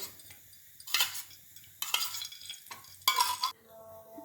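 Ghee and oil hit a hot pan in short bursts of hissing and metallic scraping, three distinct splashes of sizzle with quiet gaps between them.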